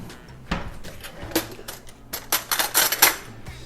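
A metal spoon scrapes and clinks inside a blender jar of homemade low-carb baking mix, giving irregular close clicks and scrapes with short bursts of rattling, and no talking.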